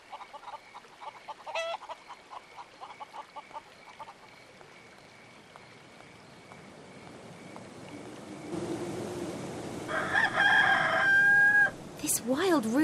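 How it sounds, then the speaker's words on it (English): A wild rooster in the video game Haunted crows loudly near the end, a rising drawn-out call over a busy bed of game noise and clucking fowl sounds. "This wild rooster won't let me past."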